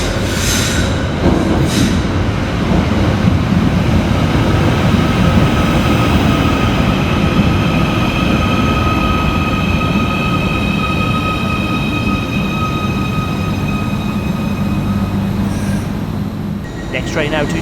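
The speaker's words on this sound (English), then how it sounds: "Arriving next into the station is 77725, working the 1254 Merseyrail electric service from Liverpool Central to Chester." Merseyrail electric unit 77725 pulls into a station on the 1254 service from Liverpool Central to Chester, a loud, steady rumble of wheels on rails with squealing tones and a motor whine building then easing near the end.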